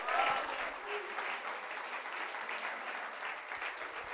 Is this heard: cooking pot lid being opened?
no